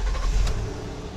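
A Honda Odyssey engine, which had trouble starting after an oil pan replacement, turns over and catches in a brief, loud burst of low rumble. The idle then settles steadily.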